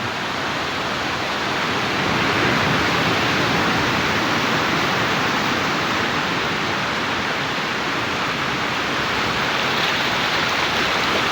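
Waves crash and wash against coral rocks on a quiet beach at Lhok'nga, Aceh, a loud, continuous roaring surf that never lets up, with no voices heard.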